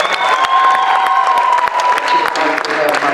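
A crowd at a spoken word showcase claps and cheers for a performer, loud and near, with whoops and shouting voices mixed into the applause.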